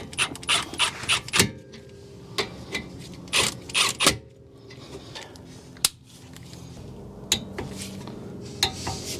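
Caliper bracket bolts on an Acura TL front brake being snugged with a ratchet, giving sporadic metallic clicks and clanks, close and irregular, with quieter handling noise between them.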